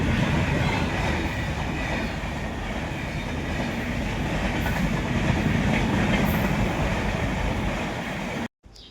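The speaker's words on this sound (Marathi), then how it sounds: "तर तितक्यात बघा रेल्वे देखील आलेली आहे." A train rolls past a village railway crossing with the gate closed, a loud continuous rumble with rail clatter filling the scene for about eight seconds before cutting off abruptly at the end.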